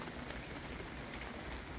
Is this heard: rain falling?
yes